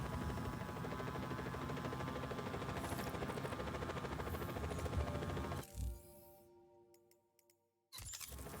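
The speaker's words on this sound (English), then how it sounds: "We could get over 200 kilometers an hour on this helicopter" A helicopter flies in the Just Cause 4 video game, its engine and rotor making a steady, dense drone. The drone drops out abruptly for a couple of seconds near the end, then the roar returns.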